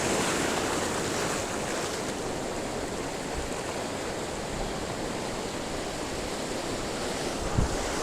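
Strong sea waves crash on the shore where someone is casting a fishing line, a continuous loud roaring surf with gusts of wind buffeting the microphone.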